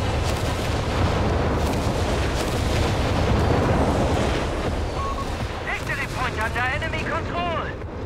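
A 37mm gun firing in Company of Heroes 3 amid a dense, continuous roar of battle explosions and gunfire, with a whistling sweep of sound near the end, loud and sustained throughout.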